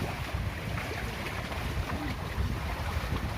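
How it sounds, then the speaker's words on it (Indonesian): Big waves on Jatiluhur reservoir at a fishing spot, a dense continuous rumble of choppy water and wind gusts buffeting the microphone, with no talking. "Cuacanya ombaknya guys, gede banget"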